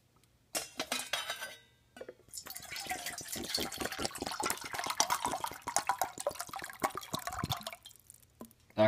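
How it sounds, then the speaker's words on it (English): Slightly over two cups of water pour into a stainless steel pot, a long splashing, gurgling stream with metallic clinks, preceded by a short burst of similar noise and a pause. "I'm gonna put 2 cups of water in there."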